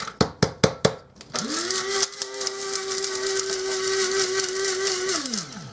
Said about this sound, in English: And you can hear them. They're still grinding up.